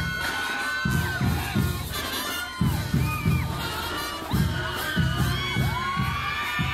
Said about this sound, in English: So that's a whole cheering group.